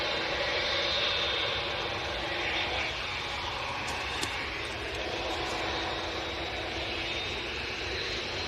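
TUI airliner taking off at Manchester Airport, a steady broad roar of jet engines heard from a distance with no talking.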